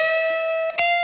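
An electric guitar plays a single sustained bent note in a guitar solo phrase, with a brief slide and re-bend near the end, heard alone without talking.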